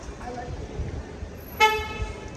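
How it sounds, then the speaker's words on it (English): A single short car horn toot sounds in a street in the port city of Cartagena, Spain, brief and somewhat distant over low traffic and street ambience. "Whoa, am I being honked at?"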